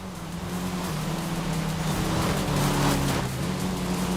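Engines of racing cars in Forza Horizon 5, including an Opel Corsa and a BMW, a steady loud droning roar with a sustained tonal hum and slight pitch shifts, continuous throughout with no talk.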